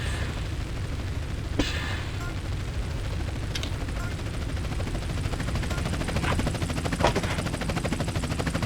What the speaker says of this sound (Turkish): Ve başımızda helikopter.